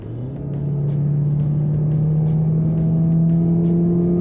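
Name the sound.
car engine accelerating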